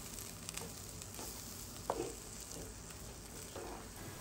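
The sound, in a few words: eggplant tomato paste frying and stirring in tempering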